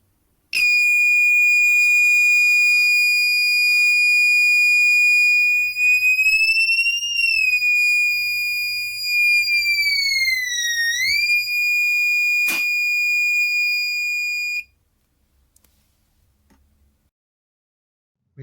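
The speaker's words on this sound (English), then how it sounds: "the change in frequency generated by an active magnetic buzzer to the applied external magnetic field" An active magnetic buzzer driven by an Arduino Nano gives a loud steady electronic tone that wavers in pitch as an external magnet is brought near, sounds alone for about fourteen seconds, then cuts off abruptly.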